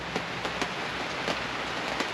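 Rain falls steadily on the tarpaulins of a boat in Tahiti, a continuous soft hiss with scattered sharper drops tapping close by.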